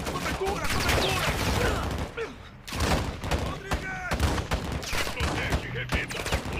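Enemy gunfire in Call of Duty: Modern Warfare 2 during a cartel firefight, with dense bursts of shots and thuds filling most of the stretch, a brief lull near the middle, then more rattling fire under shouted voices.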